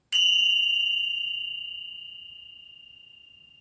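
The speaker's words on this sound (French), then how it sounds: "les deux cloches se touchent pour provoquer un son" Two meditation bells touch in a single clear strike that rings out and sustains a pure, shimmering tone that slowly fades, alone in quiet.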